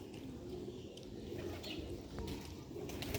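Soft, low cooing of Sialkoti pigeons repeats in the background amid a steady outdoor hum, with a few faint chirps and light rustling.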